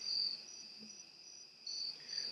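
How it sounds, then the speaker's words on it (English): Crickets chirp steadily inside a hot room, a faint continuous high trill with slight pulsing and no talking. "it's hot as hell in my room, so you're gonna hear some crickets"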